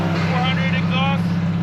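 A big-turbo Subaru STI running E85 through an aftermarket exhaust with a titanium tip idles with a deep, steady rumble close by while people talk over it.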